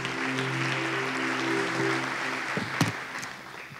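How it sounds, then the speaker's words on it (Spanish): A church congregation applauds, a dense wash of clapping heard at moderate distance under sustained organ or keyboard chords, with a few sharper claps and thumps near the end. "Dele un fuerte aplauso a Dios mientras usted se sienta."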